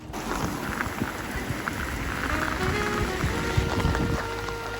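Heavy rain pelting down on a walking tour in Copenhagen or Malmö, a steady dense hiss of drops with wind buffeting the microphone, loud and continuous.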